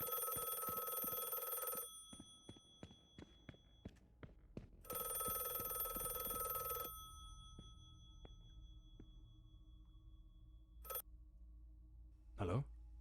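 A telephone rings in The Last Case of John Morley video game in two long, bright, bell-like trills separated by faint ticking and quiet ambience, with a couple of short tones later.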